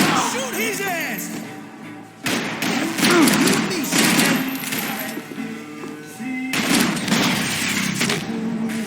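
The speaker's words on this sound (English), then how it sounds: "I'm gonna shoot his ass." Gunfire in the video game Max Payne 3: loud, dense bursts of shots and heavy thuds that repeat over several seconds, mixed with voices and game sound.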